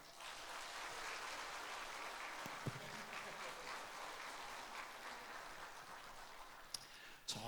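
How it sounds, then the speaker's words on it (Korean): A church congregation claps together in a steady, sustained round of applause, heard from a distance at low volume, with a couple of sharper claps near the end. "여러분 많이 박수해 주세요."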